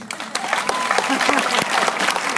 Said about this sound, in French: on va applaudir très fort, s'il vous plaît, ce jeune garçon